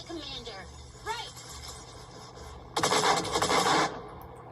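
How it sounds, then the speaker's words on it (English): Gunfire in the anime Saga of Tanya the Evil, heard as a dense, loud burst of shots lasting about a second late in the clip, after a stretch of quieter background sound. "That looked like 5 shots and it killed everybody around them"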